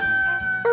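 A rooster crows in a short, loud burst, its strained call rising at the end over a steady background tone.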